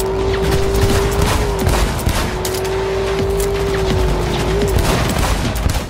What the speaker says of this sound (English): After a few very impressive explosions